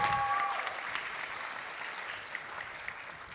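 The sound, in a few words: applause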